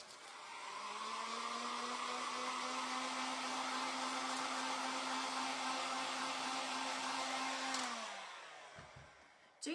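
A hair dryer blows steadily on handmade Halloween craft decor pieces, a loud continuous whirring hum with a steady tone that runs for about eight seconds before winding down and clicking off near the end.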